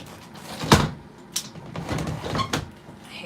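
A door creaks and thumps as it opens to let a cat in, with a sharp knock followed by rattling handling noises and a second bump, close by and alone without talk.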